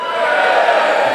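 A home crowd at a Get in the Ring startup pitch event in the Netherlands lets out a short, loud burst of cheering and shouting, a dense wash of voices close by.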